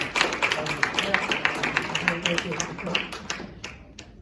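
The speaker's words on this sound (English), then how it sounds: "So we give him a big round of applause." Audience applause at a live event honoring a longtime SAG-AFTRA member volunteer: steady, fairly dense clapping with crisp individual hand claps, tapering slightly toward the end, with some voices mixed in.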